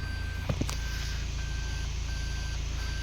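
A 2022 Toyota Camry sounds its reverse gear warning: a regular series of short, fairly quiet electronic beeps repeating at an even pace over a low engine hum inside the cabin.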